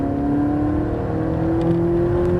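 A Lamborghini or Ferrari sports car on a track drones steadily at full throttle, its engine note rising gradually, loud and continuous without a break.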